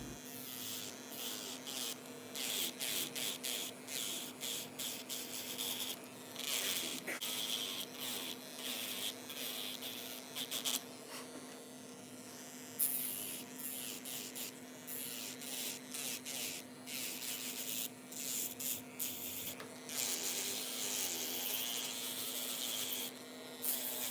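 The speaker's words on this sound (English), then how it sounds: "So I'm just grabbing my sanding band and going from right to left to remove the shine away from the nail beds." An electric nail file with a sanding band buffs the surface of an acrylic practice nail at home, a steady high-pitched whirring rasp that runs continuously and closely, with brief lulls, and no voices.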